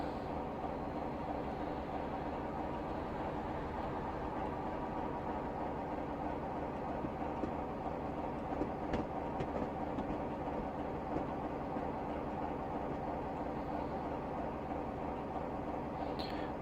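A Class 45 diesel train in Train Simulator Classic rolls steadily over points on the Leicester to Nottingham line, a low continuous rumble with faint rhythmic clicks and a few sharp knocks, quiet and without talk.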